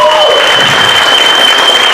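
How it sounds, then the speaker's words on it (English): A dense burst of applause from an audience at an arts event, loud and close, with a steady wash of clapping throughout and a faint voice at the very start. "Let's give one more round of applause to people in Nano."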